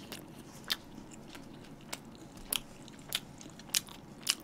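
Someone bites and chews an Isaac chicken toast with a chicken patty and sauce, giving crisp crunchy bites spaced about every half to one second over a quiet background, close and fairly soft.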